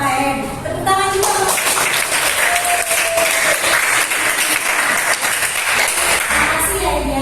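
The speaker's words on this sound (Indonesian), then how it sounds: "Tepuk tangan juga." Applause in a school classroom during an academic supervision lesson, dense hand clapping from a group that starts after a brief spoken moment and keeps going evenly at a lively level for several seconds.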